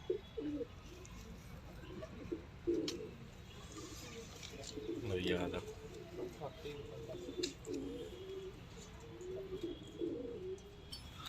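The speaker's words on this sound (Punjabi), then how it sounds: "ਫਿਰੋਜ਼ਪੁਰੀ ਡੱਬ ਵਾਲਾ ਕਬੂਤਰ ਜੋੜਾ" A pair of Ferozpuri dabb pigeons, an old Indian breed, coo in repeated low murmuring phrases at moderate volume, with some handling noise and a brief louder burst midway.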